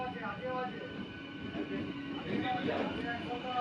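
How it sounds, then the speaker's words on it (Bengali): A MEMU local train rolls over points as it switches tracks entering Bishnupur junction, giving a soft, continuous rumble with faint wheel clatter and squeal heard from inside the carriage, with voices faintly in the background. "এখন আমাদের ট্রেনও ট্র্যাক চেঞ্জ করে ঢুকছে।"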